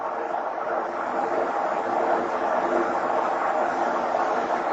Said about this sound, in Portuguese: É o trem, é o monotrilho que tá passando.